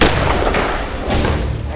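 Rapid bursts of loud gunfire crackle continuously, dense and close, with heavy thuds blending into one another.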